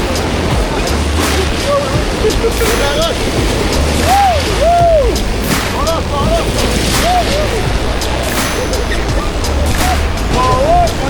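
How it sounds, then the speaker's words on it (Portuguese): Whitewater river rapids with high waves roar continuously around a raft in Canada, loud and close with heavy wind buffeting, while people shout and talk over the rushing water. "No início tudo tranquilo, a corredeira bem controlável, até que chega realmente o momento de começar as ondas mais altas."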